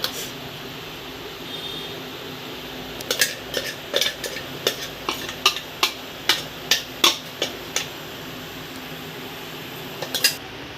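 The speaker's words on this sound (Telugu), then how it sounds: "ఒక గిన్నెలోకి కాకుండా ఒక ప్లేట్లోకి నేను తీస్తున్నాను" Ground raw mango chutney scraped from a grinding stone onto a plate, heard as a run of sharp, distinct scrapes and clinks in an irregular rhythm, close and fairly clear against a faint fan hum, with no talk.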